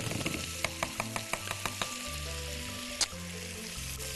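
Butter sizzles in a hot frying pan, a steady crackling hiss with sharp pops scattered through it and one brighter spatter near the end.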